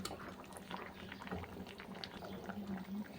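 A fish curry with potatoes and vegetables simmers in a pot, giving a close, continuous bubbling and gurgling of liquid at a steady moderate level, with no one speaking.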